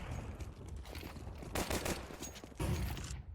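Rapid gunfire from Counter-Strike 2 in a competitive CS2 match, loud, close bursts of shots around the middle and end, over a steady busy background of game noise.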